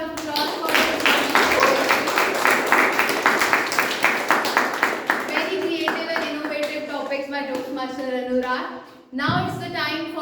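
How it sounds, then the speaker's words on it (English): A room of Toastmasters club members at a meeting bursts into rhythmic hand clapping, loud and close for about five seconds, then the clapping fades out and a voice begins speaking. "Let's give a big round of applause for this."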